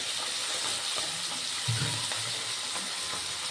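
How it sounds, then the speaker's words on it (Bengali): Fish heads fry in hot oil with turmeric, a steady dense sizzle and hiss with faint crackles and one soft clunk partway through. "আমি একইভাবে সব রকম মুড়োগুলো একেবারে লাল লাল করে ভেজে তুলে নেব।"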